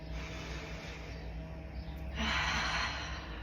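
Steady, close breathing during an abdominal breathing exercise, with a long airy inhale followed by a louder, rushing exhale toward the end; no talking.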